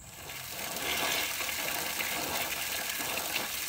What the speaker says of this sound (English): all I have is the pressure relief valve open, just letting water completely flow through there